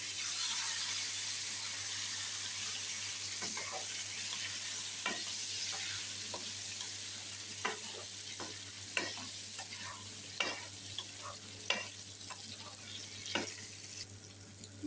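Brinjal pieces frying in a pan, a steady sizzle under repeated sharp scrapes and taps of a spatula stirring the vegetables, close and fairly quiet.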